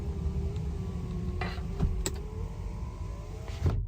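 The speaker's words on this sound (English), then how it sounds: "let me just go ahead and roll up these windows." Car power windows whir upward with a motor hum and a few small clicks, close by and with no talking.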